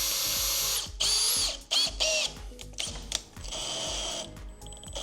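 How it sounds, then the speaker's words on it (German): A power drill pre-drilling a screw hole in HPL panel for a Plastmo gutter bracket. It gives loud, close whining bursts with ratcheting clicks and short pauses between runs, and no one talks. "Die Schraube ist vorzubohren, weil auch HPL kann sich ein bisschen ausdehnen."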